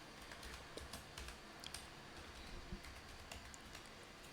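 Keys clack steadily on a computer keyboard while entries are made in accounting software, a quiet, close run of irregular taps with no talk.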